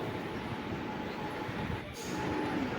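Steady rumble of a MEMU train running along the tracks near Ernakulam, a continuous close-up roar with wind noise and no talking.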